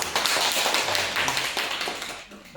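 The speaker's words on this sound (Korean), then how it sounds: "축복의 박수" A church congregation claps together in a blessing applause, a dense continuous patter of many hands filling the room at steady loudness with no talking.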